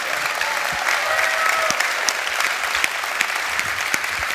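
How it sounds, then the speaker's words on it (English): Large audience applauding at the MediaTek CEO keynote during COMPUTEX 2024 in Taiwan, a steady, full wash of clapping from a big hall crowd throughout. "Hey, people, give him an applause."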